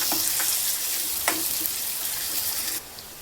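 Ground ginger and garlic sizzle steadily in a hot pan, with a few soft clicks of stirring over the constant frying hiss, fairly quiet and close.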